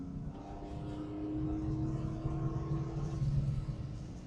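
A Makellos 911ST Porsche engine hums and rumbles at moderate volume while driving, a steady low drone with slight rises in pitch as the car pulls along, heard from inside the cabin.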